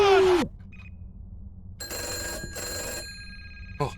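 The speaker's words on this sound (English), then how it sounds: "Now there's two phones ringing." Telephones ringing in a video game: an electronic bell rings in two sustained bursts, then a third starts at the end, steady and moderately loud over a low background hum, with a short sharp sound at the start.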